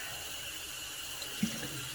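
Steady broadband hiss of water running from a tap, continuous and even throughout, with a faint knock near the middle; no voices.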